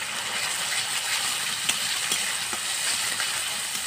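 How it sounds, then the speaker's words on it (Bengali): Steady sizzling and a spoon scraping through chapa shutki dried fish bharta with ground spices, salt and turmeric in a hot pan, close and continuous with faint clinks. "এবার নেড়ে চেড়ে আমি খুব সুন্দর একটা ভর্তা তৈরি করে নেব"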